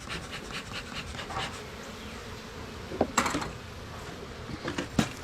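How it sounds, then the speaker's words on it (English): Agitated honey bees buzz around an open hive, a dense close swarm drone with individual bees zipping past the microphone, plus a few sharp clicks and knocks of hive equipment near the end. "y'all are mad. I had your hive open too long."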